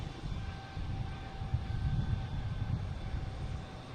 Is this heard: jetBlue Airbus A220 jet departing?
yes